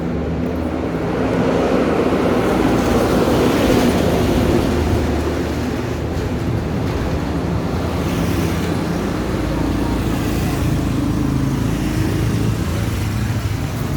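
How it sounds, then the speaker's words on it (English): A bus approaches from behind on a roadway, a steady loud rumble of engine and traffic noise building and sustained throughout, close to the listener outdoors. "I hear a bus coming up behind me"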